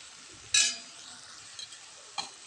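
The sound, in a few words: mixing vegetables with salt and chilli powder in pan for pongal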